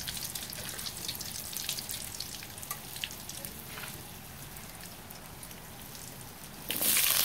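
Onions sizzle and crackle in hot oil in a wok, a steady close patter of frying that swells into a louder burst of hissing at the very end.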